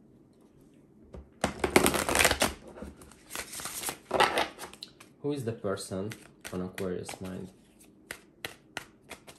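Tarot cards riffled in a short shuffle during a tarot reading, a crisp papery burst of rapid flicks near the mic followed by a few lighter taps, with someone talking over part of it.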